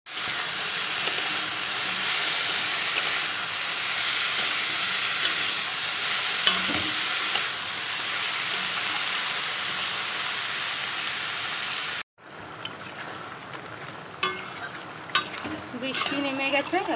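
Malabar spinach curry frying and being stirred in a pan, with a steady close sizzle for most of the stretch, then a sudden drop to quieter bubbling with scattered scrapes and clinks near the end.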